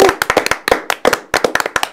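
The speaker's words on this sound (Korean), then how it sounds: "축하의 박수를 먼저 드리겠습니다" Congratulatory clapping in a Korean talk-show studio, a handful of people giving sharp, close, distinct hand claps in a loose irregular rhythm with brief gaps between bursts.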